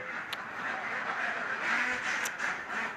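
Ducks quacking on a duck egg farm with about two thousand birds, a dense, continuous chorus of calls close by, with people talking faintly underneath.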